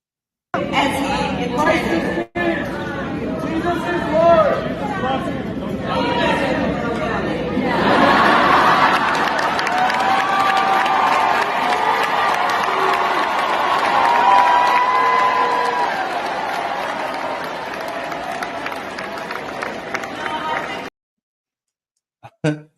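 A crowd claps and cheers in a large room, with chatter and a few voices at the start. Then sustained applause swells with whoops and holds loud and steady for about a dozen seconds before cutting off abruptly.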